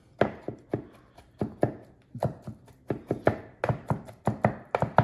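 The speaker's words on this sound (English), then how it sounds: "so we're just going to chop this up into tiny little pieces." Knife chopping sfogliatelle pastry dough into tiny pieces on a board, a close series of sharp, steady rhythmic thuds, loud and without talk.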